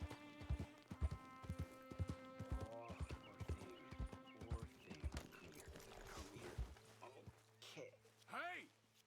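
Horse hooves clip-clop in a steady rhythmic gait within the Red Dead Redemption 2 video game, joined by whinnies and snorts, with voices and background game sounds layered over the hoofbeats.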